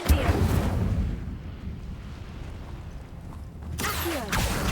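An Incendio fire spell cast in Hogwarts Legacy bursts with a low rumbling whoosh at the start, fades to a dull roar, then flares again near the end with a crackling swell.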